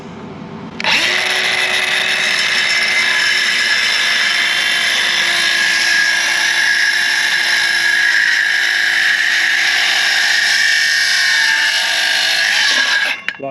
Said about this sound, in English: cutting with this saw because I got a new Diablo blade for it